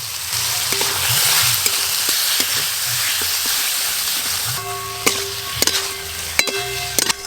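Chopped tomato hits spices frying in a pan, giving a steady hiss and sizzle throughout, joined by sharp clinks and scrapes of a spatula against the pan in the second half.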